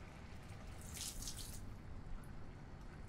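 Dark beef stock poured into a pan for boeuf bourguignon, a brief liquid splash and trickle rising over a steady low background, fairly quiet with no talk.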